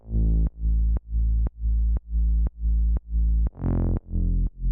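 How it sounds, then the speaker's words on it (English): A heavily compressed saw-wave synth bass holds one note, pumping in eight even pulses about twice per second, loud and alone, with a brief filter sweep near the end. "So you've got a sustain bass just kind of holding down, playing 1 note."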